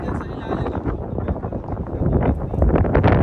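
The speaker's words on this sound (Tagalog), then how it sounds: "It's windy." Outdoor wind gusting across the microphone at a spring picnic in Canada, a steady broadband rumble that grows stronger toward the end, with people talking over it.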